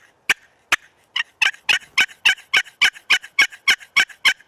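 An aluminum turkey call imitates a hen's yelp, with a couple of spaced notes followed by a rapid, even run of a dozen loud, raspy yelps, close and clear with no talk.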